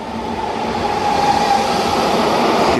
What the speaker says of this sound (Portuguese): É como entrar num trem ou num metrô. É como o metrô de uma cidade,